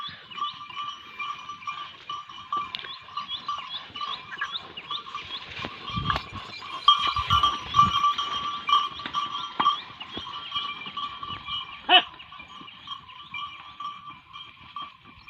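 Oxen pulling a harrow plod along at a slow, steady pace, with soft hoof thuds and shuffling, and a constant insect-like hum carrying through the scene.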